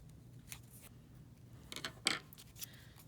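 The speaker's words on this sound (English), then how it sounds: "I'll grab some scissors and I'll just cut it down a bit" A few quick metallic snips of scissors cutting paper, close and fairly quiet, spaced irregularly against a low background hum.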